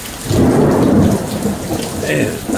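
A close thunderclap rumbles loudly through a heavy downpour in a Texas lightning storm, the low roll swelling early and fading under the constant rain.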